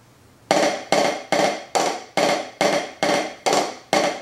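A fast, driving metal-style drum diddle riff of nine sharp, evenly spaced hits, each burst loud and snappy, repeating steadily with no voices.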